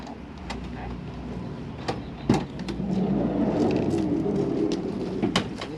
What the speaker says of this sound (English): On your sliding door, so if I just open the van